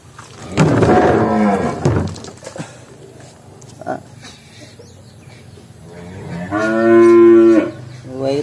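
Pregnant Sind and Brahman cattle let out two loud, drawn-out moos, one near the start and another near the end, close by, with quieter farmyard background between them.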